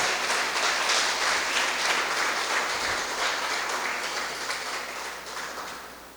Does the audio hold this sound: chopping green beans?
no